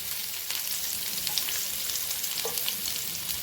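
Onion frying in ghee for chole bhature masala, a dense, even crackling sizzle held at a steady level throughout, close up with faint stirring touches and no speech.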